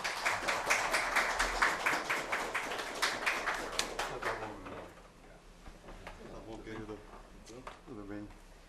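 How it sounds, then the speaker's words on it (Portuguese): An audience gives a round of applause at a professional career talk. Brisk clapping fills the first few seconds, then fades, and speech continues over scattered claps. "recebam com uma salva de palmas"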